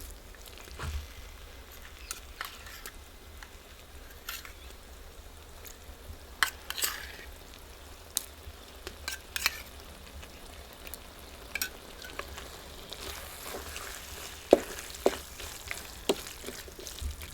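Steady sizzling of green turmeric curry frying in a pan as curd is added, with occasional scrapes and clinks of a spoon stirring.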